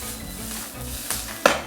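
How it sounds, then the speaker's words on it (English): Greens sautéing in a pan for a braised chicken dish, a soft steady sizzle with light stirring scrapes and a couple of sharp utensil clinks against the pan near the end. "So now I'm going to take that and just saute it a little bit."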